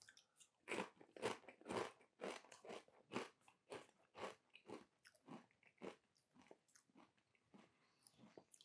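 Crunchy nooch and onion crisps being bitten and chewed close up, a steady run of loud crackling crunches about every half second, with no talk.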